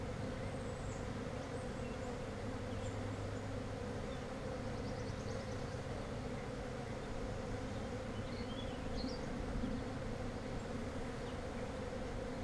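Honeybee workers buzz in a dense, continuous hum during a beehive inspection, a steady close drone that never lets up, with no voices.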